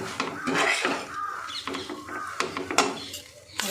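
A spoon stirring whisked curd into cooked oats pilaf in a pot, giving irregular metallic clinks and scrapes up close, with a few faint background sounds.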